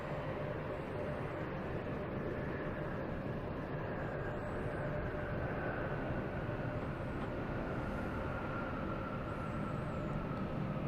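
A large airliner departs the runway at Boston Logan Airport, its engine roar a steady, broad rumble that stays loud and even throughout, heard from a spotting position at some distance.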